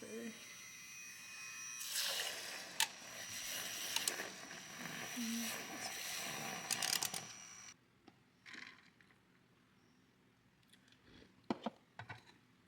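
An electric milk frother whisks a chocolate stevia drink in a steady buzzing whir that lasts about six seconds and then cuts off, leaving faint handling clatter.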